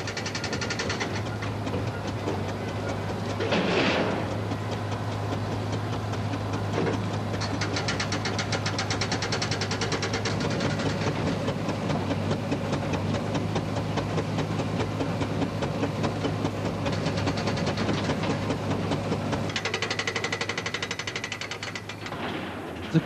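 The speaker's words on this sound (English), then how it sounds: "This was driven by his 1902 Garrett 6 HP agricultural engine" A 1902 Garrett 6 HP agricultural steam engine drives a 1917 stone crusher at a steam fair, a loud continuous mechanical churn with a steady low drone and rhythmic knocking, no voices.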